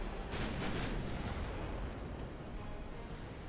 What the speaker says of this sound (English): And there's another torpedo hit.